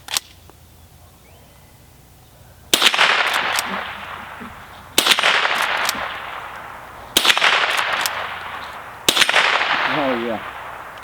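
Henry youth .22 lever action rifle with walnut stock, fired four times outdoors at roughly two-second intervals, each shot a sharp loud crack with a short ringing tail.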